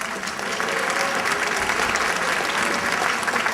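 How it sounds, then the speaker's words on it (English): Audience at a school band concert claps in a dense, steady round of applause that fills the hall for several seconds at moderate volume. "So give these guys a round of applause."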